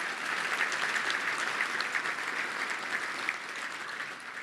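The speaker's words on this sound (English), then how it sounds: "Would you give them a big round of applause?" Sustained applause from a luncheon audience at a touchdown club gathering fills the room, steady and dense throughout without a break.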